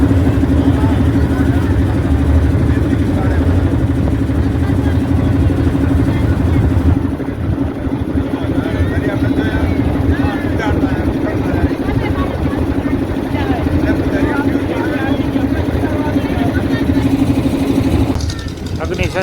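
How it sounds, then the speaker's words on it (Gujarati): A fully loaded boat on the river at Kashi passes close by with a steady, loud engine drone that carries through the whole stretch, while people talk over it. "પછી એક બોટ આવી રહી છે આ બોટ જઈ રહી છે ભરાઈને ફૂલ"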